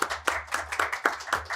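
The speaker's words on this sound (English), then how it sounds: "I would like again to thank and to ask for an applause to Umang Bhatt" An audience at a talk on regulating AI-assisted decisions applauds a speaker, with a handful of close, rhythmic claps repeating every few tenths of a second rather than a full crowd.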